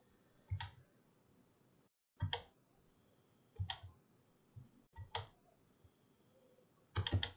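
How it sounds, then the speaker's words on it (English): A computer mouse clicks in short, crisp clusters of two or three at a time. Five bursts are spread over roughly seven seconds, close and clear against a quiet room hum, with no talking. "Double click to end it."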